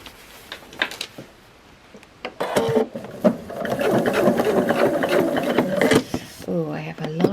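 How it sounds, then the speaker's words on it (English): A sewing machine runs a quarter-inch seam for paper piecing, backstitching at the start and end. It whirs steadily and close for about four seconds, with a few sharp clicks before and after. "I will start here with my back stitch and I go all the way down and I end up with my back stitch."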